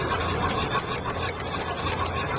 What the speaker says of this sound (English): Stirring the flour in bit by bit. Keep stirring all the time so it helps to reduce the lumps.